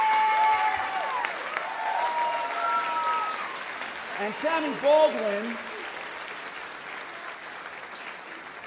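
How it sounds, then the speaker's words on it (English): Gala audience applause at the Equality Awards, clapping running beneath a voice that talks over it, with the crowd sound tapering toward the end. "Give yourselves a round of applause."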